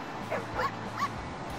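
A dog gives two or three short, soft yips or whimpering barks, fairly faint against a steady background hiss, with no one speaking.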